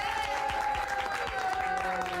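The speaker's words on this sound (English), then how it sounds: "by way of applause, Tony Atlas." Arena crowd at a 1985 WWF wrestling event breaks into steady, full applause for Tony Atlas, a continuous wash of clapping with a faint tone running underneath.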